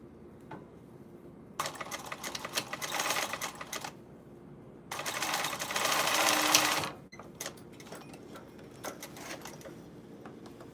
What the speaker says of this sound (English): I have to stitch right here. Stitch the seam.